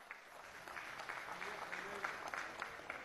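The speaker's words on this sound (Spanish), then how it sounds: "un aplauso para Fidel Vázquez" Applause from lawmakers in the Venezuelan National Assembly for Fidel Vázquez, a steady crackling clatter of many hands at moderate distance, with voices murmuring faintly underneath.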